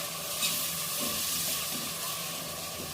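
Chickpea cooking water is poured into a pan of frying spices with chilli and turmeric, producing a steady, loud hiss and bubbling sizzle that holds evenly throughout.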